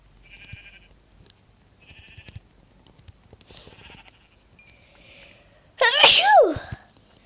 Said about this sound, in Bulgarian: Кой кихна?